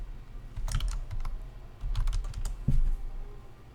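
Keyboard keys clicking in two quick bursts as a short word is typed, fairly close and clear, with a soft thump near the end and no talking.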